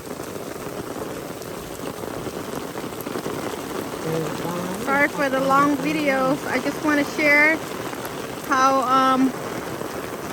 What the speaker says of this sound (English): Look Heavy rain Looks like it's hailing but it's not hail